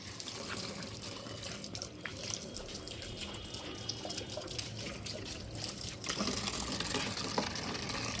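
Water pouring onto the base of a plant outdoors, a steady close trickle and splash that runs without pause and swells slightly louder toward the end.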